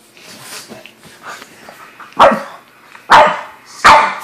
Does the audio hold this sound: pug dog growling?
yes